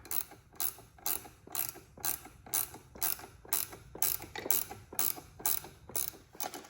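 A 14 mm ratchet wrench tightening the strut nut on a Fiat 124 Spider Abarth during a lowering spring install, with a dozen crisp clicking bursts in a steady, even rhythm, close and clear, no talking.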